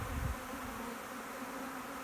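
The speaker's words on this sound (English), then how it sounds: "Now, if those bees, if they all fly back there," Swarming honey bees buzzing in a dense, steady drone, close and continuous with no talk.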